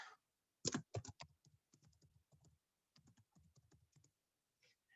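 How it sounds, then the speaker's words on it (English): Keys clatter on a computer keyboard during an online meeting, a quick burst of loud clicks followed by lighter, steady tapping, then a pause and a last few strokes, with no talking. "Let me just type it in."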